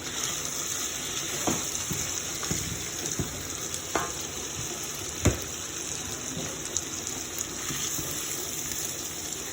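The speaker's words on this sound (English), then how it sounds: "I'm going to go ahead and add the corned beef. Then I'm going to let it fry together and really marinate." Canned corned beef, onion and luncheon meat frying together in a pan for Liberian dry rice, giving a dense, continuous hissing sizzle with occasional soft utensil knocks and scrapes, steady and close.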